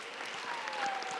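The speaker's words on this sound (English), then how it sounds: "Let's give them a round of applause," An audience applauds at a high school business panel event, a steady wash of clapping from many hands, heard from a distance, continuous and fairly faint without any voices over it.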